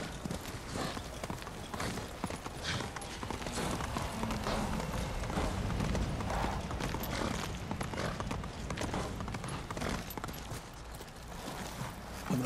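Horse hooves clip-clop at a steady running gait in the samurai video game Ghost of Tsushima, a continuous rhythmic clatter with game ambience beneath, no talk.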